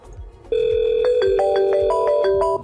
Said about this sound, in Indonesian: Kita coba telepon dari Slide ke 3CX.